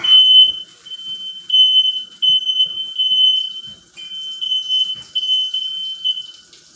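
A household smoke alarm set off by barbecue smoke from ribs being cooked, beeping loudly and close in a steady run of shrill, piercing chirps with short gaps, briefly interrupted partway through, with no talking.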